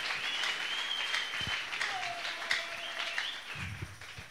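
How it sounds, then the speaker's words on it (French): A church congregation claps softly at a distance, a thin, steady patter of applause under faint voices and a lingering tone, fairly quiet throughout. "Applaudissons pour la gloire de Dieu."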